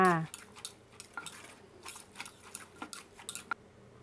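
Ingredients for a spicy Thai wild papaya salad, including Vietnamese pork roll and pickled mustard greens, being tossed together in a bowl, giving a run of light, uneven clinks and scrapes of utensils against the bowl at moderate volume.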